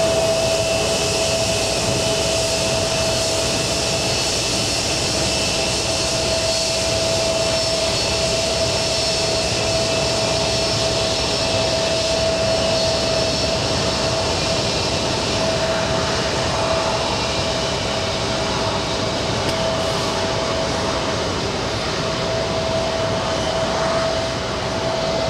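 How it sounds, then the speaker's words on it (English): A JetBlue jet airliner at JFK Airport powers up its engines for takeoff, a steady loud broadband roar with a sustained whine, continuous and unchanging throughout, without voices. "JetBlue powering up."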